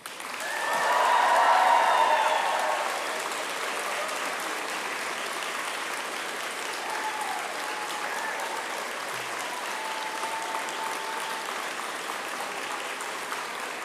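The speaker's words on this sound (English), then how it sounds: "the bar has now been set for applause and cheering later in the ceremony" A graduation ceremony crowd breaks into loud applause with some cheering, swelling at first and then settling into steady, softer clapping.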